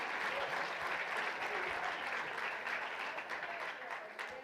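Congregation applauding in a church during a sermon, a dense, steady wash of many hands clapping at close range, holding loud throughout and easing slightly toward the end.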